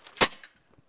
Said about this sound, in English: RPG, I should fire it pretty good.